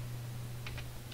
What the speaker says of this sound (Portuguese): Eu vou digitar aqui Opera.